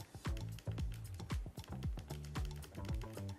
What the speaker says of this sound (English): you get those physical iconic Pocketbook page turn buttons at the bottom that just fly through the book